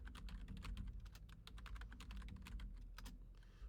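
Someone types a Pi-Hole command on a computer keyboard, a quick run of close, crisp key clicks in an uneven rhythm, quiet and alone.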